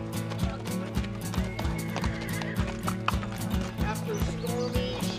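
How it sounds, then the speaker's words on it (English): Horses clop and shuffle on hard ground with occasional whinnies, hooves knocking in an irregular rhythm amid busy activity as they are fed, saddled and loaded onto trailers in New Mexico. "Horses are being fed, groomed, and saddled"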